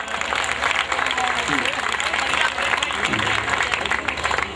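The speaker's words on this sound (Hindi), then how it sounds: "मैं चाहता हूं एक बार ओरिजिनल श्रोता होकर तालियां बजा दे पूरा सदन" A packed hall of listeners at a comedy gathering claps on cue, a full, sustained ripple of applause with voices murmuring underneath.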